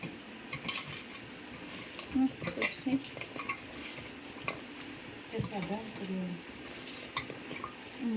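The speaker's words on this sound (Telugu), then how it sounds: "ఇది మొత్తాన్ని మంచిగా అన్ని ముక్కలు కలిసేటట్టు" Cleaned goat head pieces are mixed by hand with salt, ginger garlic paste and turmeric for a curry, making faint intermittent clinks and stirring noises, with speech at times.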